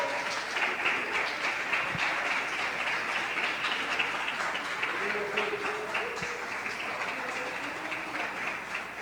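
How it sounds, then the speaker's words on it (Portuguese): A church congregation applauds during a family worship service, steady broadband clapping that holds through the whole stretch at moderate loudness, with faint voices underneath. "Você pode aplaudir e glorificar a Deus, irmão?"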